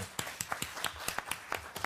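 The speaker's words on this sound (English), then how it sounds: "why don't you give him a big applause over there." Audience clapping for a presenter at a lecture event, made up of scattered, fairly quiet individual claps in a loose rhythm with no talking.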